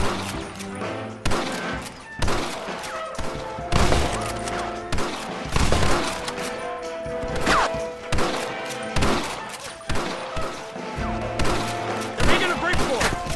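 A video game shootout in a Western setting, with dense gunfire cracking and booming in rapid irregular bursts for the whole stretch, loud and close, and occasional shouted voices mixed into the fusillade.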